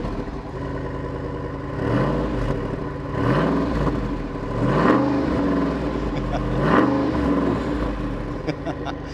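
A Jeep Wrangler Rubicon 392 with a 6.4-liter Hemi V8 is started and revved several times, each rev sweeping up and dropping back over a deep, rumbling idle, loud and close.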